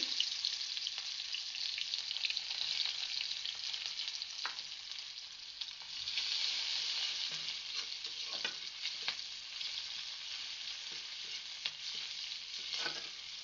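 Chopped onion fries in hot oil in a kadai-style wok while preparing a fish curry, giving a continuous bright sizzle at moderate loudness with occasional soft scraping taps of stirring and no voices.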